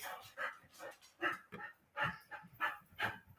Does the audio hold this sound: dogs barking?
yes